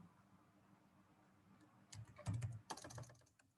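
A computer keyboard is typed on to enter text, starting after a quiet stretch with a short flurry of soft clattering keystrokes, faint and close, with no voices.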